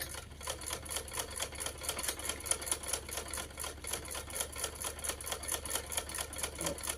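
A sewing machine stitches fabric for warm socks, a fast, even mechanical rattle of needle strokes that runs steadily and close up, with no talking.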